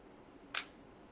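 A DSLR camera shutter fires once in a quiet room, a single brief, crisp mechanical click during a 2-second bulb exposure.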